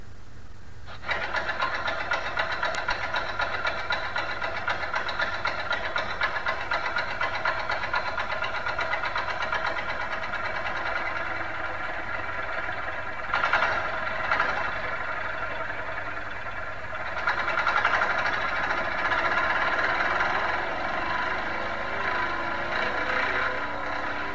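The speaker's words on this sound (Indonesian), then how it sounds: "mesin dompeng di sana aja pakai ecu" A Thai dompeng tractor engine used for paddy fields runs steadily with a rough, knocking mechanical drone, close and loud, rising in intensity in a couple of bursts, no talk.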